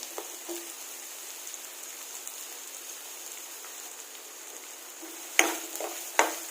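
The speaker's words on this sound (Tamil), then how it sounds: "போட்டு ஃப்ரை பண்ணிக்கோங்க" Medium onions and small shallots fry in a pan for a quail pepper fry with a steady, fairly even sizzle, and a few sharp utensil clacks near the end, close by with no talking.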